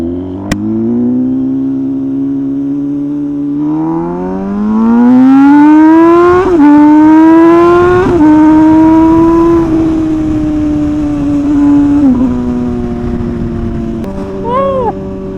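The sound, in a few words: motorcycle with aftermarket exhaust riding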